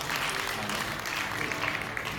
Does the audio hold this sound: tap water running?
no